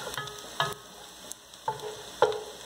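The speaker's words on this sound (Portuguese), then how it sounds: "Então aqui ele fritou, ele está dando essa douradinha, certo?" Cassava pieces frying until golden, a soft background sizzle broken by a few distinct clattering stirs and scrapes at irregular intervals, fairly quiet overall with no talking.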